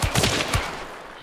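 Lebel Marksman rifle shots in Hunt: Showdown, three or four sharp booming reports in quick succession early on, then a fading tail with no talk.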